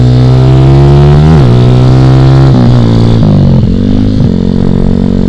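A Suzuki Satria FU motorcycle engine, recently repaired after a blown engine, revs loudly and close, its pitch rising and dropping in several throttle blips over a constant rumble, with no talking.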